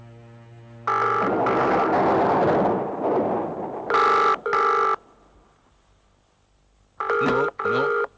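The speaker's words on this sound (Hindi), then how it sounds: "फोन उठाइएगा नहीं अभी, दोनों एक साथ फोन उठाइएगा।" A telephone rings in loud, clipped double bursts, two near the middle and two more at the end. An earlier ring is swallowed by a loud rumbling blast.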